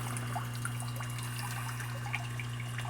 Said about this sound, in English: Every time it gets out of hand, I just throw some water on it, it pushes it off.